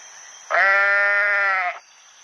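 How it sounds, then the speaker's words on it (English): One sustained sheep bleat, loud and close, a steady nasal baa holding for about a second over a faint background hum. "sheep,"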